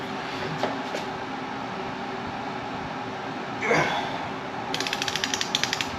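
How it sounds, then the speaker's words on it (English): A jack handle levered on a 3/4 inch impact socket works a stubborn bolt loose on a Mitsubishi Evo 8 with a 4G63 engine, giving a few faint clicks, a brief creaking strain, then a quick run of sharp ratcheting clicks close by. "I just got my trusty old jack handle to be able to try to get a little bit more torque on it"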